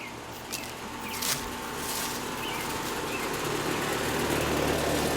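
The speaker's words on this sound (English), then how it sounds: "Anyway, back to the heat pumps." A 2007 Carrier base model heat pump running in heat mode gives a steady, close mechanical hum and whir with a faint fluttering texture, holding a constant drone and growing slightly fuller as it runs.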